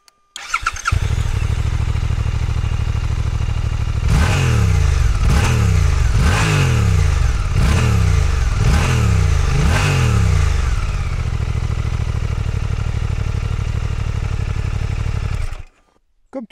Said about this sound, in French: te faire écouter un peu le son du moteur